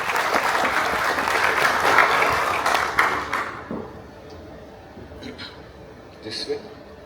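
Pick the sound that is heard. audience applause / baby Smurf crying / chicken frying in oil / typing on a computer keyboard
audience applause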